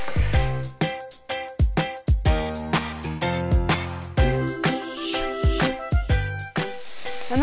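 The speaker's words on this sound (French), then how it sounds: "La dernière minute de cuisson, on monte le feu pour faire diminuer la sauce et bien caraméliser" Ginger and honey chicken pieces sizzling hard in a hot pan as the sauce reduces and caramelizes, with loud repeated scraping stirs cutting through the steady frying hiss.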